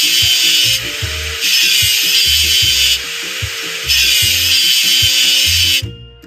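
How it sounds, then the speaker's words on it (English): Rust being scrubbed off a machine in a video game, with loud repeated bursts of harsh abrasive grinding alternating with softer passes and an underlying rhythmic mechanical thumping, ending abruptly. "Let's get rid of the machine's rust."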